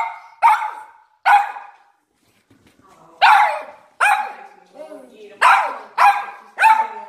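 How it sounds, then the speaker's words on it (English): A Rhodesian Ridgeback and Dachshund mix barks loudly and close by, two sharp barks, a short pause with a soft whimper, then a run of five more barks in quick succession. "That is a Rhodesian Ridgeback and Dachshund mix."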